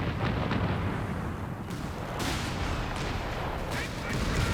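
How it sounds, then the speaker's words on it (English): Artillery and explosions boom in a Company of Heroes 3 4v4 match, with dense, continuous rumbling blasts and crackle throughout and sharper bursts near the middle and end. "Flare up into artillery"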